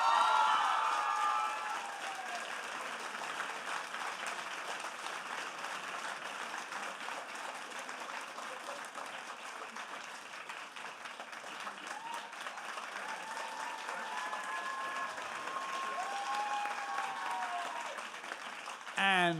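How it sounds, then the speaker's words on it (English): An audience applauding a second-place winner at a university research-talk competition, a long, steady round of clapping with light cheering, a voice speaking briefly at the start. "would you please give an even huger round of applause to Chanhui Chen?"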